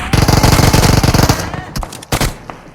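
A fast burst of automatic gunfire in PUBG, loud and close with evenly spaced rapid shots for over a second, followed by a few scattered sharper reports and quieter movement.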